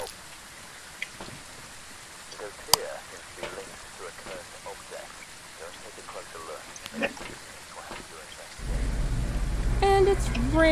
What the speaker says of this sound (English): And it's raining. It's pouring.